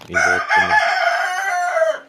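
Brahma chickens and roosters in a backyard flock, one rooster crowing loud and near in a long drawn call after two short clucks, with no voices.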